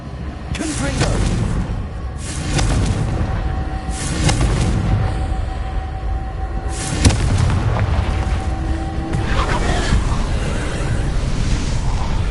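Repeated Confringo explosions in Hogwarts Legacy: about five booming fiery blasts spaced a couple of seconds apart, each with a sharp crackling onset and rolling low rumble, loud and close over continuous game ambience.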